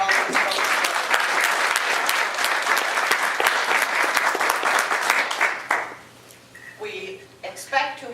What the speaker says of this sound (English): Could we have a nice round of applause for all these folks?